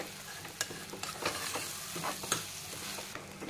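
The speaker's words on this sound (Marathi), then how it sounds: "आता त्याला एकदा नीट परतून घ्यायचंय." Broken basmati rice sautés in a pan for masala rice, a continuous close frying hiss broken by repeated scraping stirs of a spoon against the pan.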